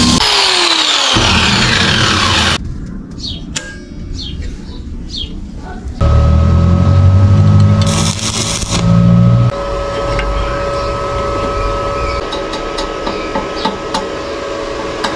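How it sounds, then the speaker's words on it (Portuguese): Steel pieces of a motorized Monark Monster bicycle fork are cut with a power tool, loud grinding bursts starting and stopping, separated by quieter gaps with clanks and faint birds in the background. "Agora já vou cortar as pecinhas do centro aqui pra nós tá soldando no lugar aí e alinhando certinho."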